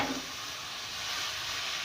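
Onions sautéed soft in a pan before keema goes in, a faint, steady close hiss of frying with no other sounds.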